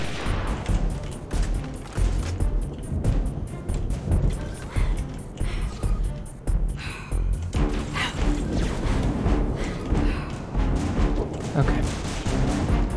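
Dense, continuous bursts of gunfire and booming blasts from a Halo: Reach battle, including fuel rod cannons, with a voice talking over the clamor.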